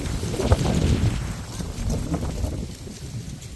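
Gusty wind buffets the microphone in low rumbling bursts in a garden, strongest early on and then easing to a softer blustery hiss.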